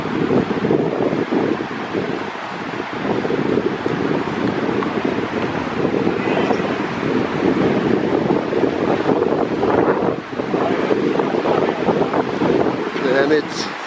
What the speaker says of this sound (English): This is white water.